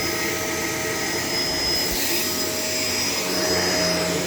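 A Shark LA702 vacuum cleaner runs steadily at close range, a loud continuous whirring drone with a constant high whine holding level throughout.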